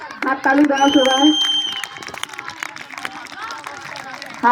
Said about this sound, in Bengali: হাততালি দাও সবাই,